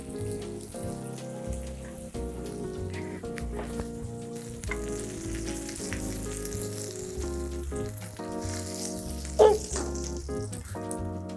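Spinach crepe batter frying in a hot dry pan, a steady close sizzle with crackling, popping texture running throughout, one brief louder pop near the end.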